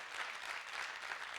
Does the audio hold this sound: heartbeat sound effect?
no